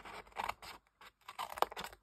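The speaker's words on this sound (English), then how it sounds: "So we're going to just cut right along." Scissors cut along a sheet of card for a folded pocket tissue box, two clusters of close, crisp snipping separated by a brief pause.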